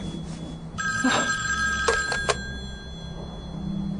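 An old-fashioned telephone bell rings in a couple of bright, metallic bursts over a low background hum, fairly close and clear.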